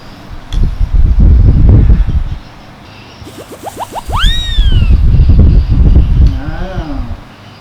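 A kitten in a small house gives a rising, drawn-out meow and later a shorter one, both fairly clear amid loud rumbling, wind-like background noise.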